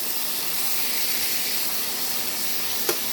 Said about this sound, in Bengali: এই যে ভাজা বসিয়ে দিলাম অলরেডি, ভাজা হতে থাক